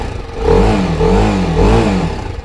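A TVS Apache RR310 motorcycle engine revs close by, rising and falling in three loud surges over a steady idle, with no talk.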